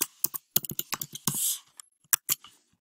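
Quick, close computer keyboard typing, a burst of sharp key clicks, a short pause with a brief swishing noise, then a few more isolated key taps.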